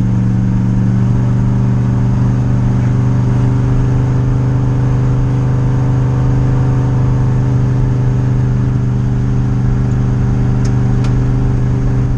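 A car engine runs steadily at a mid pitch throughout, a constant loud drone with a gentle rev while the car is driven on the road, with no voices over it.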